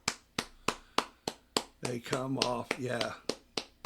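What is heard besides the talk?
applause from teammates on sideline at girls soccer final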